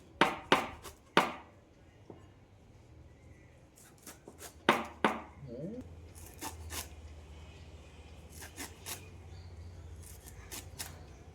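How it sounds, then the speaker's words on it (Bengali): A bonti blade finely chops kulekhara greens in sharp, crisp cutting strokes, clustered in quick irregular bursts with short pauses, close and clear over a faint background hum. "এবারে বটির সাহায্যে শাকের পাতাগুলো কুচিয়ে নিচ্ছি।"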